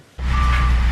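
A human voice mimics a vehicle's reversing beeps, a brief sustained electronic-like tone starting abruptly, close and fairly loud.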